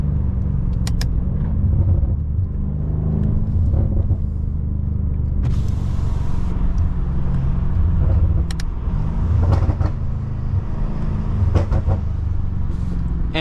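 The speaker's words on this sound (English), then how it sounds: "All the burbles you hear are the factory burbles, and yes, it does sound amazing." Stock, untuned BMW F90 M5 Competition rumbling along on the road, its deep exhaust note steady under the drive with a few sharp burbles and crackles popping out at intervals; no talking.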